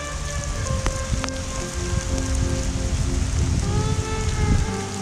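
Steady rain patters down through a four-wheel-drive trip in the Victorian High Country, a dense constant hiss with a few faint tones over it and no voices.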